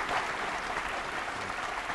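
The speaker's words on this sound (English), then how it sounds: "Let's give them a round of applause, please." A studio audience at a sustainability challenge competition show gives a brief, even burst of applause that sounds like a soft, continuous wash of clapping at moderate volume.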